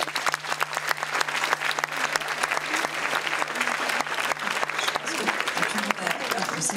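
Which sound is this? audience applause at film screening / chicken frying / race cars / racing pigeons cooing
audience applause at film screening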